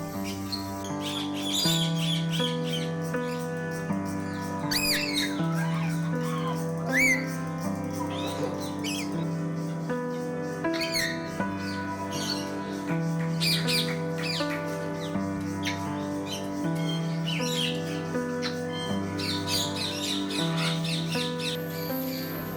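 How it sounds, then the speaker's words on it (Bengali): Large macaws at Gazipur Safari Park give loud, harsh squawks and shrill calls in repeated bursts over a busy background of other birds. "ম্যাকাউগুলো বিশাল আকৃতির ও বিকট শব্দ সৃষ্টি করা"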